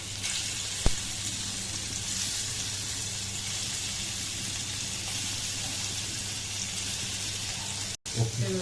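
Marinated paneer roasts in a pan with very little oil, making a steady, even sizzling hiss with a single tap near the start and a short break just before the end.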